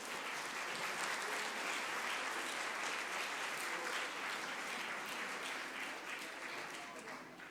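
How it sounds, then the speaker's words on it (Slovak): An audience at a school Christmas concert applauding to welcome the city mayor: dense, sustained clapping from a large crowd filling the hall, fading slightly toward the end. "Privítame ho potleskom."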